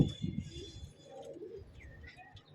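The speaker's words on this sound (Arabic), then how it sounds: "انا بفتح لك للحمام قدامك" Pigeons in a loft coo softly with low, throaty calls at the start, then fainter coos and light chirps continue against a quiet room background.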